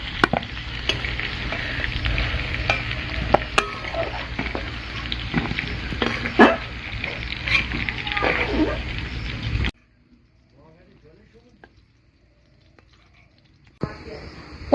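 Lightly fried pointed gourd and potato pieces crackle in hot oil with clattering utensil scrapes and knocks, a busy close sizzle that drops to near silence partway through, leaving faint scrapes and a final clink.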